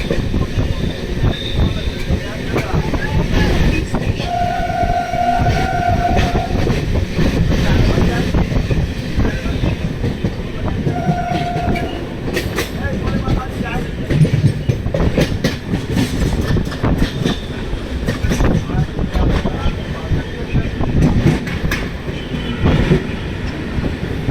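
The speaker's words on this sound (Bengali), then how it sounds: "চলে এসছে ট্রেন মাঝেরহাট স্টেশনে" A train between New Alipore and Majerhat rumbles steadily along the rails with rhythmic clatter and wind noise, loud and close, with a couple of short tonal squeals.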